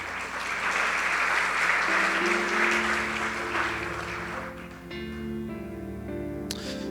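A church congregation claps loudly and steadily for a few seconds before the applause fades under an organ or keyboard chord.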